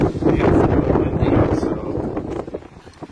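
Strong wind buffets the microphone at a campsite, a loud continuous low rumble with gusty swells that ease off toward the end.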